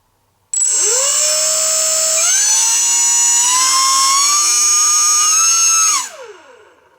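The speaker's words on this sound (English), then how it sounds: "we are going to experience the motor from a slightly different angle." Electric motor of an E-flite UMX F4F Wildcat RC warbird spinning its propeller, a loud close whine that starts abruptly, steps up in pitch partway through, holds steady, then winds down quickly, with no talking.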